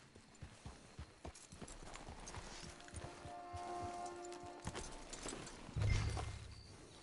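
Horse hooves in Red Dead Redemption 2 Online clip-clop at a steady walking pace, a close rhythmic clatter over a soft ambient bed, ending with a louder thump.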